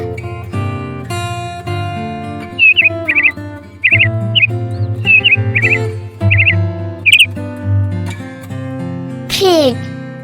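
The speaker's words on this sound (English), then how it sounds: "peacock" Several short, loud peacock calls repeat in quick succession over a backing of bright children's music, ending with a longer upward-sweeping cry.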